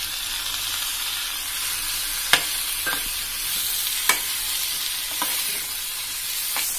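Tomatoes and fried onions sizzle in a pan for paneer bhurji, a steady frying hiss broken by a few sharp scrapes and taps of a spoon stirring, no voices.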